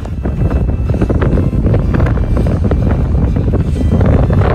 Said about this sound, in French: C'est qu'aujourd'hui, il y a pas mal de vent.